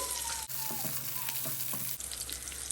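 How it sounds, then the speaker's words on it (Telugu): Green chillies and a spoonful of cumin seeds frying in oil, a steady broadband sizzle with a few soft clicks and utensil taps, fairly close and continuous, with no talking. "పచ్చిమిరపకాయలు కొద్దిగా వేగాక ఒక స్పూన్ అంతా జీలకర్ర వేసి కూడా వేయించుకుందామండి."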